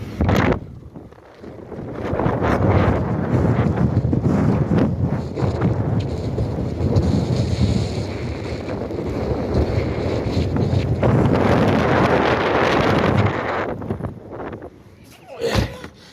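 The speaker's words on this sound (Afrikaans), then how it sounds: "lekker woes hoor, lekker woes." Strong wind roars across Southport Beach, buffeting the microphone in a loud, continuous rumble with gusting surges, while a voice speaks briefly beneath the blustery noise.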